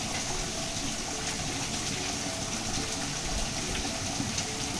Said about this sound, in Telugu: ఇక్కడ పడట్లేదు నీళ్ళు, ఇక్కడనే పడుతున్నది